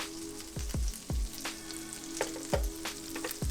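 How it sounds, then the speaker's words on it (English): Onions and garlic sauté in a pan for crock-pot chili, with a soft continuous sizzle broken by repeated low thumps and scrapes of stirring, close and moderately quiet. "Right now I'm getting ready to saute my onions and my garlic"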